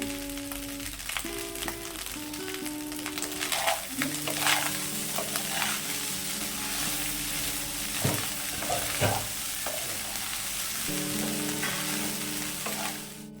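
Continuous loud sizzling of leftover rice frying in a pan, with intermittent scraping and stirring clinks over a steady background hum.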